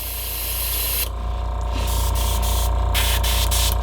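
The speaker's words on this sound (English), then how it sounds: "So I'm going to go ahead, spray out all the water." An airbrush sprays water through to clear out the previous color before switching to green, a steady close hiss running the whole time with brief shifts in its brightness and no talking.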